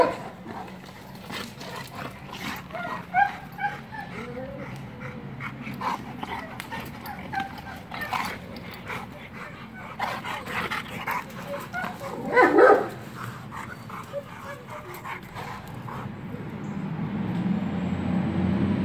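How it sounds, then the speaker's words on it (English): Two big American Bully dogs play together, giving scattered barks, yips and whimpers over nearly twenty seconds against a steady low background hum, with faint traces of human voice. "These two big dogs."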